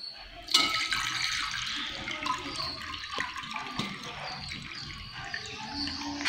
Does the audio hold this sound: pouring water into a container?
yes